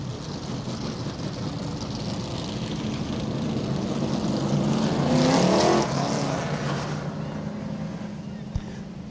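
Late model stock cars of the Monty Tire Late Model Division roaring past at a short track race start, a loud sustained engine drone that swells and fades as the field passes, with a crowd and announcer beneath.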